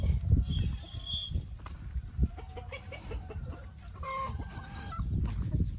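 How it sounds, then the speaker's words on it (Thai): Laying hens cluck on a farm, close and irregular, with short bursts and soft chatter overlapping one another, alone and without talk. "นี่คือไก่ไข่นะครับผม ไก่ไข่ตรงนี้"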